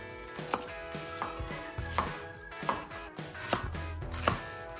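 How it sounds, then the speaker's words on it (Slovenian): Knife slicing leek into thin strips on a cutting board in a home kitchen, with a series of crisp, evenly spaced chops close by and no talking. "Por narežemo na tanke trakove."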